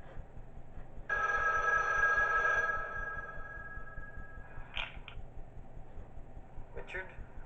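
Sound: phone ringing in Five Nights at Wario's video game

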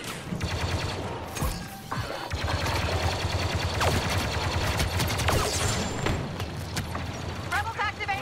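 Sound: gunfire from a Star Wars video game battle

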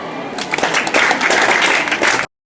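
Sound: audience applause

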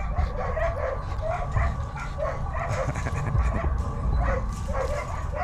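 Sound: dogs at a dog track

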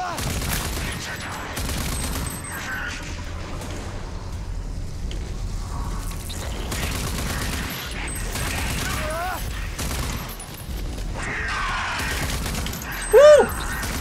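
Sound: assault rifle gunfire in RAGE 2 video game

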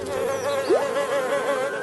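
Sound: flies buzzing in Marsupilami cartoon

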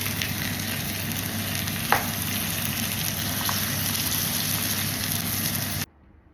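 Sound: minced meat frying with onion and pepper

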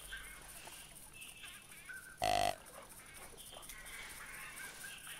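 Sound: ducks honking in video game theHunter 2016

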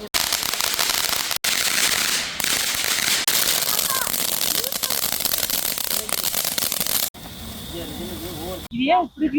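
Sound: firecrackers bursting during Diwali celebration

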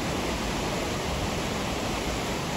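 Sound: flooded Testene river flowing at its mouth

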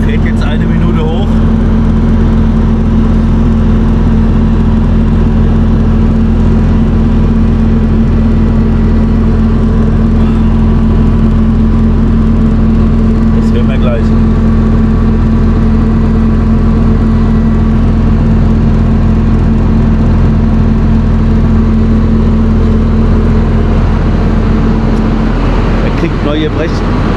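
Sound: machine engine running up for a minute

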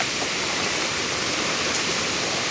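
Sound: floodwater flowing

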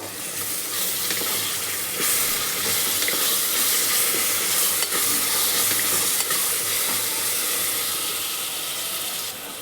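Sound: ginger garlic paste frying in oil

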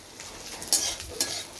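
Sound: okra (bhindi) frying in a pan

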